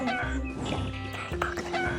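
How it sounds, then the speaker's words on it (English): A farm chicken clucks close by in a short run of throaty, rhythmic calls, clear and fairly loud with nothing else over it. "I have a chicken."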